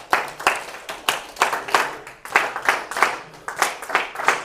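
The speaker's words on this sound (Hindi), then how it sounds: "जोरदार तालियाँ" An audience at a speaker event gives energetic applause, dense overlapping claps with rhythmic swells, fairly close and steady throughout.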